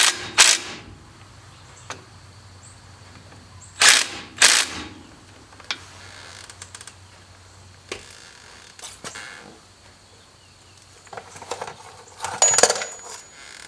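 An impact wrench seats old 80-year-old bolts on a 1945 Willys MB steering knuckle, giving a few sharp, brief rattling bursts with pauses of quiet between them in a workshop.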